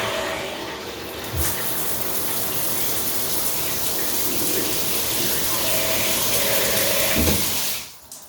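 Water pours steadily from the overhead rain shower of an Emke shower column in a renovated bathroom, a continuous close splashing rush that fades out near the end.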